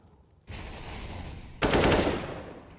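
Gunfire during a competitive Counter-Strike match, with a short burst of rifle shots followed by a louder, sustained automatic volley, close and harsh, with no talk.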